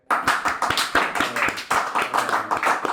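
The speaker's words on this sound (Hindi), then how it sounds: "जिसको सिड के हॉट टेक्स ज़्यादा हॉट लगे, ताली हो जाए" A studio audience at a Hindi trivia night claps in an uneven burst of individual hand claps, close and fairly loud, lasting about three seconds.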